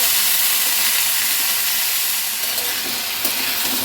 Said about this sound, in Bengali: এবার তার মধ্যে আমি গরম জলটা দিয়ে দেব